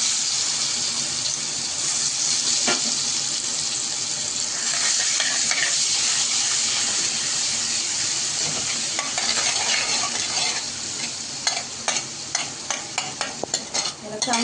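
Ground masala paste with turmeric, red chilli and mustard seeds sizzles and crackles in a hot pan for shengole curry, a steady close frying hiss with spoon stirring and scraping growing more frequent toward the end.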